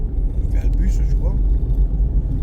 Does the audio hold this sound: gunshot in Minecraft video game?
no